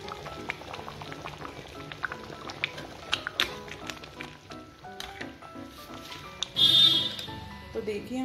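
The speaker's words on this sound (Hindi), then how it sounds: "राजमा को उबलते उबलते 5 से 10 मिनट हो चुके हैं।" A pot of rajma (kidney bean) curry bubbles on the stove, with soft irregular pops and gurgles that keep going throughout, fairly quiet.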